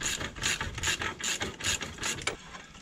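A hand ratchet tightens a new bolt on a car wheel hub, with a steady series of rhythmic clicking strokes, close and clear, about eight pulls in a row with no talking.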